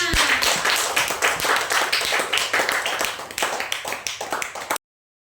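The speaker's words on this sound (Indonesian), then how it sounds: "Tepuk tangan untuk Akma" A classroom of pupils claps for a student, brisk uneven clapping from a small group close by, lasting almost five seconds before stopping abruptly.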